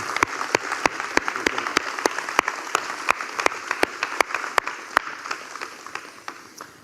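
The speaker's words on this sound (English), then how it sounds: "why don't you guys give a huge round of applause for Jesus and his team." A church congregation applauds together in a steady wash of clapping, with sharp regular louder claps standing out close by in an even rhythm throughout.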